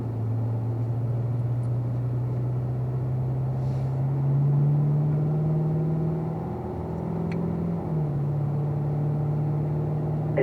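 A car taking a slow lap of a race track, a steady low engine drone heard from inside with only gentle pitch changes, no hard acceleration, constant and moderately loud.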